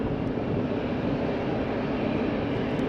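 A Condor Airbus A321 airliner at Faro Airport gives off a continuous, broad jet roar, steady and fairly close, with no talking.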